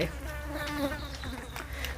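A housefly buzzes close by at a roadside food stall selling som tam, grilled fish and sticky rice, its whining drone steady and wavering in pitch throughout, with no talking.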